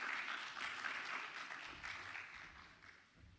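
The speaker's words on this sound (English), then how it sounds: "Can give a clap." A conference audience at a Nairobi health tech panel claps steadily for a few seconds, a soft, distant patter of many hands without a clear peak.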